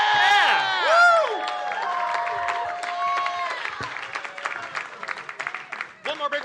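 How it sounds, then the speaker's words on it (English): An audience cheers, whoops and applauds at a radio show launch party, loud voices rising at first and then breaking into scattered clapping and shouts. "One more big round of applause for Raul and Brian."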